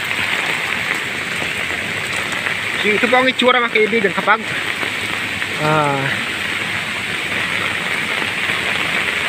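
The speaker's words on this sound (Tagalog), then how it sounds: "Malakas ang ulan" Heavy typhoon rain pouring onto surfaces, a dense, continuous hiss with water rushing like a stream, while someone speaks over it in the middle.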